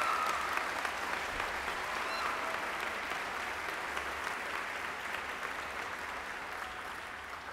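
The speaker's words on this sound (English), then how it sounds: "Please join me in giving all of those individuals a round of applause." Steady applause from a large commencement audience at West Virginia University's College of Creative Arts, a dense, even clatter of many hands filling the hall and continuing without break, moderately distant.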